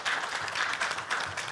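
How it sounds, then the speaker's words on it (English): Brief burst of steady audience applause for panelists at a rent relief and real estate event, even and sustained throughout. "I just want to give a round of applause to the panelists as well"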